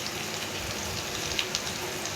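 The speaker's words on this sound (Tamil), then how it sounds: "ஒரு கொத்து கருவேப்பிலையும் போட்டு நல்லா வதக்கி விடுங்க." A soft, steady sizzle of onions and curry leaves sautéing in hot oil, with a few faint crackles and pops.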